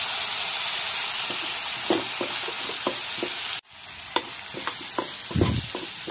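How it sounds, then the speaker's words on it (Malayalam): Tomato frying and being stirred into masala for paneer ball curry, a steady sizzle with soft scraping stirs, briefly dropping and then resuming with a louder burst near the end. "തക്കാളി ചേർത്ത് കൊടുക്കണം."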